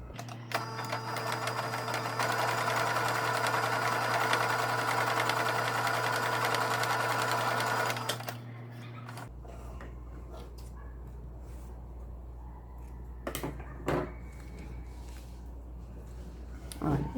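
A sewing machine stitching a seam on an Easter toiletry bag, running loud and continuous for about eight seconds, then stopping as quieter handling noises and a faint voice follow.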